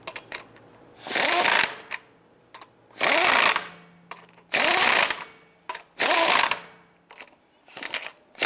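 A power tool tightens the wheel lug nuts on a 2002-2008 Dodge Ram 1500 truck in four loud, rattling bursts about a second long, with short quiet gaps between them and a weaker burst at the end.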